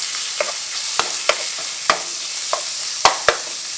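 Beef, starchy mushrooms and garlic stir-frying in sesame oil, a steady close sizzle broken by about eight sharp clacks of a utensil against the pan at uneven intervals.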